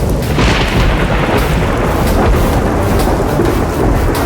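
Loud thunder rolls through a thunderstorm in a TV serial scene, a continuous heavy rumble blended with steady rain and no talking.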